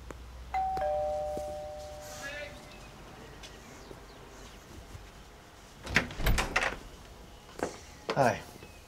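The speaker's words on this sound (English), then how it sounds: "There's a doorbell. I know there's a doorbell." A doorbell chimes once, a clear two-tone ding, followed by quiet room tone, footsteps and door handling sounds at a moderate distance.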